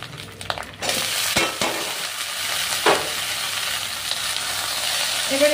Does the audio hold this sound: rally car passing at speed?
no